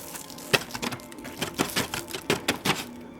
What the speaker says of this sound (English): Then we're going to shake in.